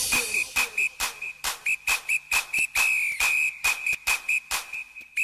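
A shrill whistle sounds again and again in short, rhythmic blasts over a pounding beat, loud and upfront in the mix of a song.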